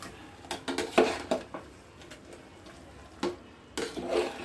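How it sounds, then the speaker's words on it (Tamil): A spoon stirs a mushroom biryani mixture in a pot, making intermittent scraping and clinking knocks against the metal with quiet pauses between strokes. "இதை நல்லா கொஞ்சம் 2 நிமிஷம் கிளறி வச்சு"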